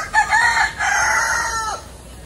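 A rooster crows once at a safari park in Ramat Gan, Israel: a clear, fairly close cock-a-doodle-doo call that rises and then trails off.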